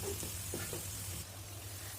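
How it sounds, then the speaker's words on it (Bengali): Chopped onion and garlic frying in oil in a pan give off a soft, continuous sizzle with a faint hiss, quiet and close, with an occasional light scrape. "এগুলো একদম বাদামি করে ভেজে নিব।"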